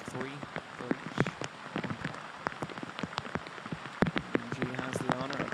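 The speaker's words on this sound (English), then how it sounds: "as the rain increases" Rain falling on a golf course during a professional women's tournament final round, a steady patter of drops with sharper individual taps, and speech faintly present underneath.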